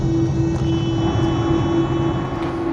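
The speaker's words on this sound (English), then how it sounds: "it's inevitable you'll hear the odd bump as the wheels cross the joins of the taxiway" Airliner cabin while taxiing on a taxiway, a loud steady engine hum with a strong low drone and faint soft thumps as the wheels cross taxiway joins.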